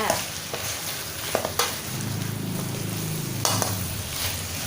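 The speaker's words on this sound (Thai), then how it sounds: "ตะไคร้นะคะ ที่เราซอยไว้แล้วนะคะ จะผัดเลยค่ะ" Sliced lemongrass stir-fried in a hot pan gives a steady sizzle, broken by a few scrapes of the spatula, close and alone with no talk.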